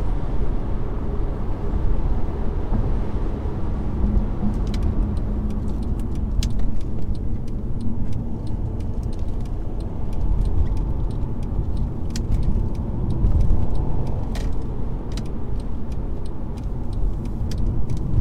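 A 2013 Mercedes C350 diesel engine drones steadily from inside the cabin while accelerating, a low continuous rumble with faint rattles and ticks, no talking.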